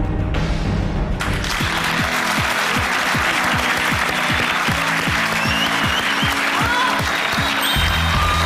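Loud, continuous applause fills a TV singing contest studio, a dense wash of clapping that holds steady from start to finish, with a steady thumping beat underneath and no voices on top.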